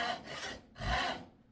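A hand saw cuts through wood during a woodworking lesson, making two slow rasping strokes, one push and one pull. They are close and fairly quiet, with a brief pause between them and no talk.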